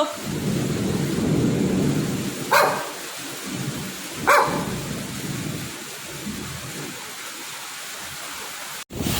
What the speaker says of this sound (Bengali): তো দেখো আজকে আমাদের খুব বৃষ্টি হচ্ছে